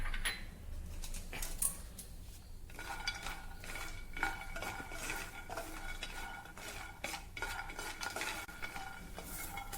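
About a tablespoon and a half of peanuts dry-roasting in a pan, rattling and clinking as a utensil stirs them in repeated strokes, fairly faint and close, with no talk.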